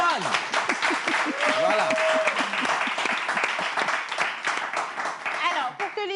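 Applause from an audience at a French event, a sustained rattle of many hands clapping with some cheering, voices calling out over it and one short spoken word near the end.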